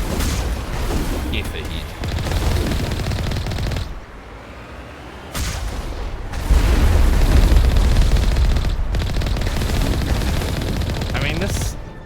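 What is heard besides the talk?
turret firing in the video game Mass Effect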